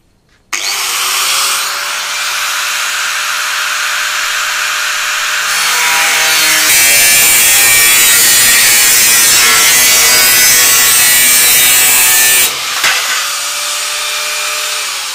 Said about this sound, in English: where I'll cut the excess material off